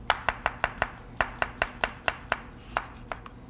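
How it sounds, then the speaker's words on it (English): A knife chops shiitake and button mushrooms on a cutting board, giving a steady run of about seventeen crisp, close strikes with one brief pause partway through. "And so we're just chopping all these up."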